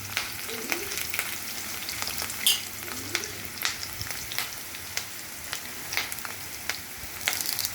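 Urad dal, mustard seeds and cumin frying in hot oil for semiya upma: a steady close sizzle peppered with sharp crackling pops from the seeds, repeating irregularly throughout without talk.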